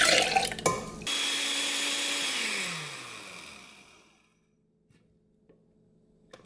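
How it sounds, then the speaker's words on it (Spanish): Blender whirring chili pulp with the water the chilies were cooked in, loud and close after a brief clatter, then winding down and stopping, leaving near silence with a few faint knocks. "a este bagazo que quedó en el sedazo le vamos a dar otra pasadita en la licuadora"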